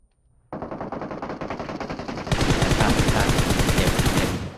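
Rapid automatic gunfire in the PUBG Mobile video game, a single loud close burst that starts abruptly and intensifies partway through into a denser, heavier stream of shots.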